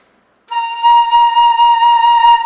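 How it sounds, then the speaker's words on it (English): A single sustained flute note played with shallow breath, starting after a brief silence and holding steady with a slight pulsing waver, loud and close with no talking. "So if I do this kind of a breath where it's more shallow and I play"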